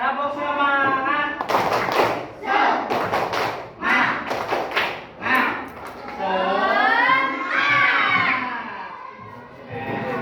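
Schoolchildren in a classroom clap through a 'tepuk semangat' routine, with sharp group claps in quick patterned bursts between loud chanted and shouted voices.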